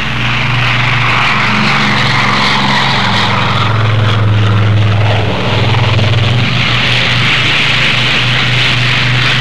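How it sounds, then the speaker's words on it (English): Air Force C-54 and C-47 propeller transport aircraft drone loudly and steadily, a deep continuous engine roar with a broad hiss on top and no talk. "made ready to be flown to the Korean battle area in Air Force C-54s and C-47s"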